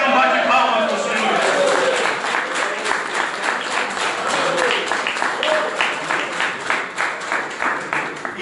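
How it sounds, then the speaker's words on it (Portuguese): A church congregation claps together, the applause starting as a dense wash and settling into rhythmic, unison beats, with voices singing or calling out over it. "Então bate palmas para o Senhor."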